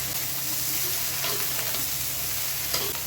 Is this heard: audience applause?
no